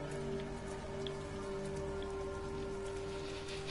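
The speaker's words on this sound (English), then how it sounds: "it's raining here as well." Steady rain in the video game Everybody's Gone To The Rapture, a continuous even patter on surfaces with a faint tonal hum beneath, constant in level with no voices.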